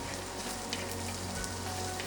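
Green chilli and ginger fry in hot oil in a pan for a dry fish curry, giving a steady close sizzle with no speech.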